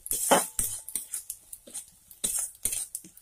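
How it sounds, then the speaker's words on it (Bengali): A metal spoon stirs a coriander and cumin spice masala in a pan, making repeated close scraping and clinking strokes against the metal in an uneven rhythm, with brief quiet gaps. "এইভাবে মশলাটা নেড়ে যেতে হবে।"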